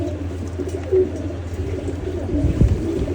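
Pigeons coo steadily in a loft with low, rolling calls layered over each other, a louder burst near the start and another toward the end, with no voices.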